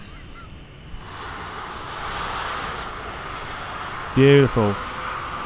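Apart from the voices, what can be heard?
UPS plane taxiing in video game Microsoft Flight Simulator 2020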